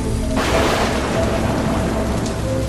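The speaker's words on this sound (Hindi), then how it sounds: "बारिश भी बहुत ज्यादा तेज हो रही है" Heavy rain in an animated cartoon, a dense, steady roar that surges in loudly and stays constant throughout, with a rumble of thunder folded into the downpour and no voices.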